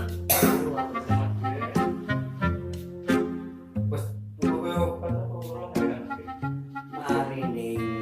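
Repeated harsh coughing in a string of bursts, close and loud, with some throaty, voiced sounds mixed in between coughs.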